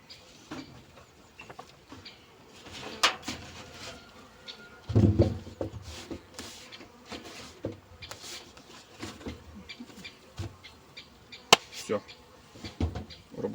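Honey bees at an apiary hive buzzing faintly and unevenly while the hive is being closed and insulated, with scattered taps and knocks of handling throughout.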